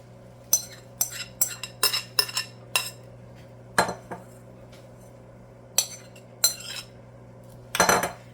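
Sharp metal utensil clinks and scrapes against a pan while green beans and roasted potatoes are mixed together, about a dozen irregular strikes in short bursts with quiet gaps, close and clear with no talk.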